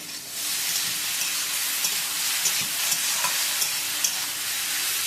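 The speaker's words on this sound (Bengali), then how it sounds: "এবার দিয়ে দিচ্ছি চিংড়ি মাছগুলো, এর সাথে যতটা ভাজা হবে স্বাদটা একটু বেশি আসবে" Prawns frying in a pan with green chillies, a steady loud broadband sizzle and hiss with occasional light spatter pops and faint stirring, no voices.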